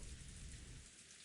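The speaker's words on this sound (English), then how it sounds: "No sound but that of falling rain filled the room." Steady falling rain fills the quiet as an ambient sound effect in the visual novel Umineko, a soft continuous hiss with low rumble, no voices.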